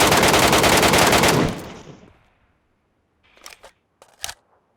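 Bursts of rapid automatic gunfire from an enemy player in Metro Royale, loud and close, rattle for about a second and a half before cutting off. A few sharp, isolated shots or clicks follow after a short silence.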